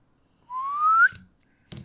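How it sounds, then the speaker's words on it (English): A sharp rising whistle, likely from a cutting tool slicing through a car's interior panel, climbs in pitch for about half a second and ends abruptly, followed by two short thuds. "that one whistled crazy"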